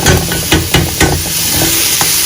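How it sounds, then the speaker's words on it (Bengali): Chopped onion and capsicum sizzle in a hot pan with very little oil, a steady hiss punctuated by sharp clicks and scrapes of a spatula stirring. "ওর মধ্যে পেঁয়াজ কুচি আর একটু ক্যাপসিকাম কুচি দিয়ে এটাকে আপাতত ভাজছি"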